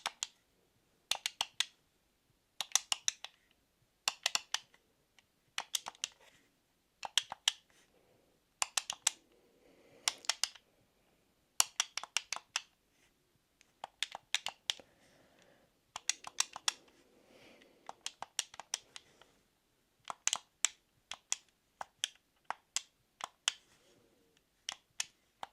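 Game controller A, B, X and Y face buttons are tapped and clicked in quick clustered bursts, sharp plastic clacks up close in a quiet room, with brief pauses between groups and no talking.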